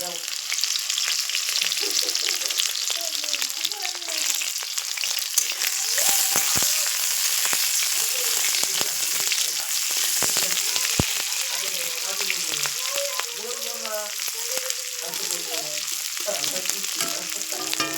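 Chopped ginger sizzles in hot oil in a pan while being stirred, a prelude to cooking aloo dum with boiled potatoes. The crackle is steady and close, with repeated scraping strokes and a faint voice in places.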